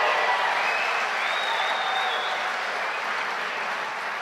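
A large graduation audience at a Liverpool University ceremony gives a steady, full round of applause, dense, even clapping with a few faint whoops mixed into the crowd noise.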